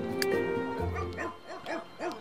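Several short, yappy barks from a virtual dog in The Sims 3 Pets, coming in a quick rhythmic series against a soft background of game ambience.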